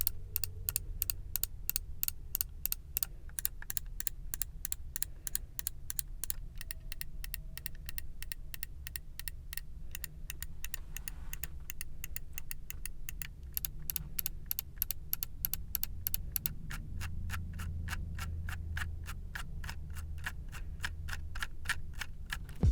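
Rapid clicking of a Symm 2 wireless gaming mouse with Kale GM 8.0 main switches, dense runs of sharp, close clicks in fast bursts with a brief pause midway, alone with no talk.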